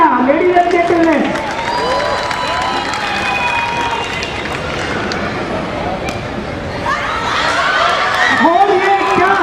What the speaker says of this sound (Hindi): जोरदार तालियां लेडीज एंड जेंटलमैन।